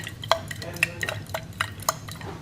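Container of layered liquids of different densities shaken by hand, giving a series of sharp clinks and knocks in an irregular rhythm, close and clear with no talk.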